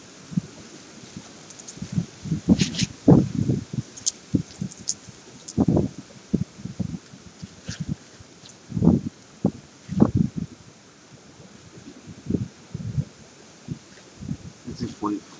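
Strong wind gusts sweep through leaves in bursts, each rustling surge rising and falling irregularly with quiet gaps between, fairly close and loud.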